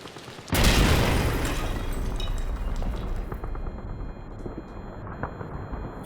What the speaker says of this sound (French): Regarde, je regarde l'explosion